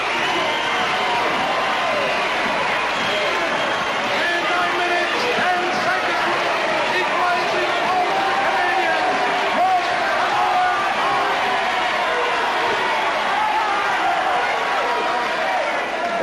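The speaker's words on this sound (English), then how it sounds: "you hear some great crowd reaction from that" A wrestling arena crowd roars and cheers continuously after Owen Hart scores an equalizer, a dense, loud wall of voices and whoops that stays steady throughout, with a commentator talking over it.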